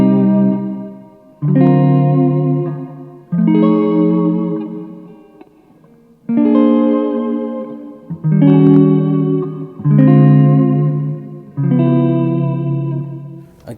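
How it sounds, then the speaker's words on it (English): An electric guitar played through an Electro Harmonix Holy Stain pedal on its hall reverb setting, with loud strummed chords repeated about seven times, each ringing out with a long, spacious wash of reverb. "Then we've got the hall reverb."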